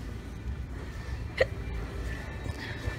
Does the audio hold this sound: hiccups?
yes